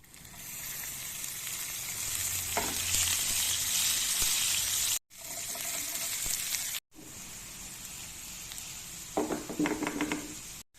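Chopped onions frying in sesame oil with cumin and fennel seeds in a pan: a constant bright sizzle and hiss that cuts out twice, then a few close clinks and scrapes near the end.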